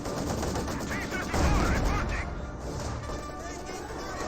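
A Maxim machine gun fires in Company of Heroes 2 with the Spearhead mod, a loud, dense rattle of gunfire with a heavier crashing impact partway through.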